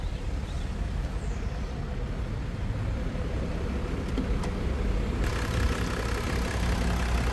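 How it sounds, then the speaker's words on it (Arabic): A 2015 Range Rover Autobiography with about 138,000 km sits idling, its engine a smooth, steady, low hum with broadband noise and no revving. "الموتور ديالها نايض بحال ليسانس، ما كتسمعوش كاع"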